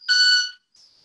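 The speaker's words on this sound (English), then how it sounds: "So this is a bird that's singing with his wings." A male bird making its song with its wing feathers rather than its voice: a short, loud, high buzzy tone with a bright ringing quality, then a brief gap and a fainter, thinner trailing tone.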